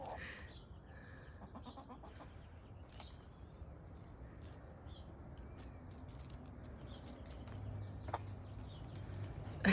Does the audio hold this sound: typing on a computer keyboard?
no